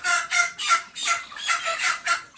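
Broiler chickens cluck in a dense flock, a rapid series of about seven rhythmic bursts of squawking calls, close and fairly loud, with no voices.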